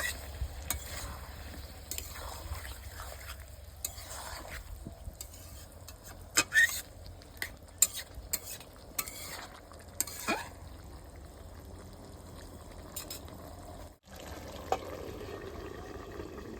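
A curry of bottle gourd and taki fish is stirred in a pan, with scraping and clinking of the utensil against the metal over a soft, steady sizzle, a few louder knocks scattered through, no talking.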